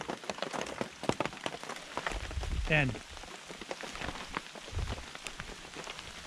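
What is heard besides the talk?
condensation dripping like rain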